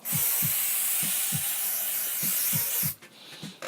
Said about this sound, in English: so I'll just spray it on the label.